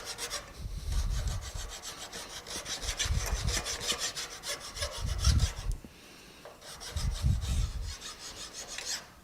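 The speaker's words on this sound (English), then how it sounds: "when you get to real problematic grain, sometimes you're better off just filing" A rasp files a carved wooden sculpture in four slow rhythmic strokes, each a close, gritty scraping rub separated by brief pauses, with no talking.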